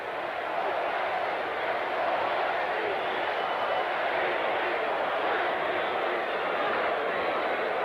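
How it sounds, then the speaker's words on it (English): Wisconsin fans cheering in the stands at the 1984 Hall of Fame Bowl against Kentucky, a dense, sustained crowd roar that stays steady and loud throughout. "the Wisconsin Rooters are on their feet with their cheer"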